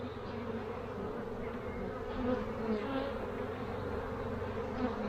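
Dense, steady buzzing of many honeybees close by at an opened hive during a spring inspection, a continuous low hum with slight swells.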